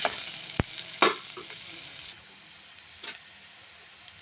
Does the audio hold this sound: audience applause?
no